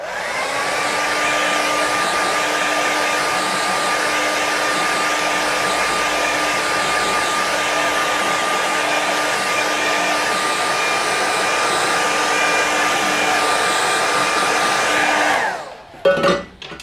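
A hair dryer blows steadily on a watercolour painting, a loud, constant whirring rush with a faint whine that runs for about fifteen seconds before clicking off, followed by brief handling noise.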